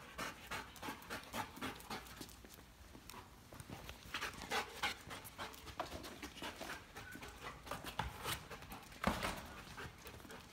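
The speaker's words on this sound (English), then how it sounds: "Again, this is narcotic dogs." A narcotic detection dog pants rapidly and steadily at close range during a search drill, quick rhythmic breaths with small bumps and shuffles and no talking.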